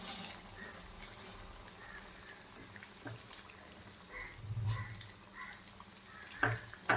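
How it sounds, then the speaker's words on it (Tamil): Rice frying in a generous amount of hot oil on a stove over a medium flame gives a steady, soft crackling patter with a few brighter pops, at a fairly quiet level and without talk. "நான் இப்போ நிறைய எண்ணெய் ஊற்றிருக்கேன் அதனால் எல்லா அரிசியும் போட்டு இதில் ஃப்ரை பண்ணுறேன்"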